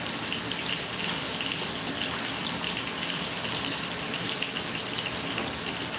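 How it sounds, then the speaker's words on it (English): Tap water runs steadily into a pot for about six seconds, a constant hissing gush heard close and alone. "just gonna have a little bit of water in there"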